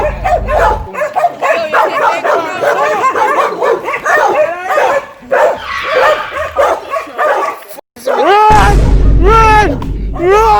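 A dog near a river barks and yips repeatedly in loud bursts, with whimpering cries, close to the microphone, while people talk and shout around it.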